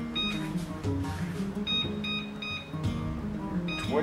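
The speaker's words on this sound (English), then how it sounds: "Set our timer." Kitchen timer being set while making homemade plum wine, a string of short electronic beeps repeating at a steady pace close by over low background noise.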